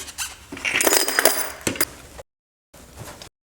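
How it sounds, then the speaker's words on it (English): Ceramic media beads and brass cartridges pour into a tumbler in a loud, rattling, clinking cascade that builds, then stops, followed by a shorter second trickle after a silent gap. "I'm going to dump in my ceramic media, these little beads, put those in there."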